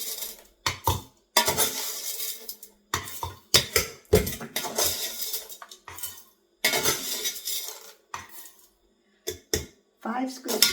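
Coffee beans scooped from a canister with its own scoop, heard as a series of sharp rattling scrapes and clatters in bursts with short pauses, close up, with speech mixed in.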